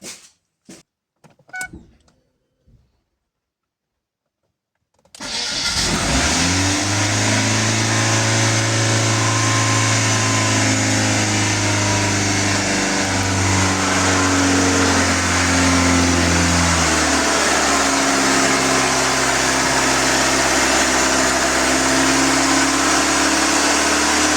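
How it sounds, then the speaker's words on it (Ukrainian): A Ford Focus engine starts after a few faint clicks and near-silence, then runs steadily with a high idle and rising revs, loud and close, with no one talking. "Я зараз її заведу, запустю. І вона задирає оберти"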